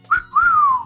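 A two-part wolf whistle sound effect from the video game DDLC Plus: a short rising note, a brief gap, then a longer swooping note that slides downward, loud and clear with no talking over it.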